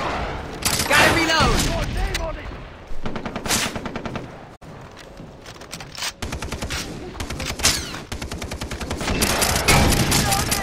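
Automatic and rapid gunfire from the video game Far Cry 3 fills the scene in dense loud bursts, with brief pauses between volleys and voices shouting under the shooting.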